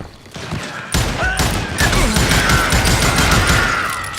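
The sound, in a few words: gunfire in the video game Call of Juarez: Gunslinger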